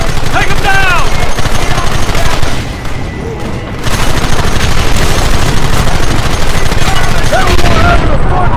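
Gunfire in the Western video game Red Dead Redemption, loud and dense volleys of shots crackling continuously through a firefight, easing briefly before resuming at full intensity.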